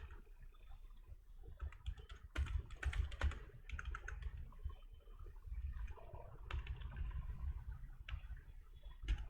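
A computer keyboard is used for typing Java code, giving close, quick bursts of key clicks with brief pauses over a low background hum.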